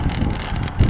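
Steady wind buffeting the microphone while riding a bicycle home with a tailwind after a sprint session, a continuous low rumble that swells near the end, with no talking.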